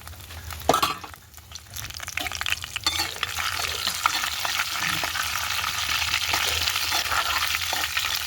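Steady crackling sizzle of tempering seeds, garlic and dried red chillies frying in hot oil, close and continuous, with a brief stirring clatter near the start.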